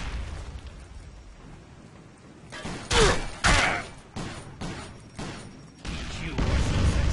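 Grenade blast in the street shooter game District 187, a sharp boom followed by a second loud burst and scattered pops of gunfire, with a rising rumble of further shots near the end.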